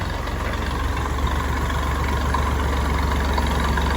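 A farm tractor's engine runs steadily at idle, a continuous low rumble that holds even and unbroken throughout, with no voices heard.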